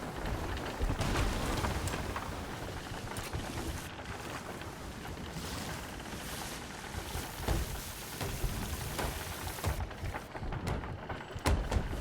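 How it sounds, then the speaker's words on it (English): A heavy storm in a video game session, with steady rain hissing across the whole span and occasional louder gusts or thunder swells, no talking over it. "I think the storm is what is really bad about this."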